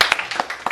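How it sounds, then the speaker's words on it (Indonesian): A classroom group claps briefly for a student during a lesson, a quick patter of several hand claps lasting under a second, close and fairly loud, with no talking. "Tepuk tangan dulu"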